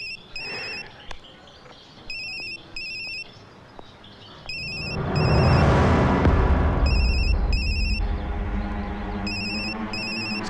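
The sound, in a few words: phone ringtone ringing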